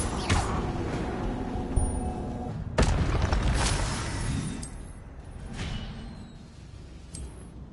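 An Incendio fire spell is cast in Hogwarts Legacy, giving several whooshing, booming bursts of fire at moderate loudness, the strongest near the start, with the rest fading into softer crackling and combat noise.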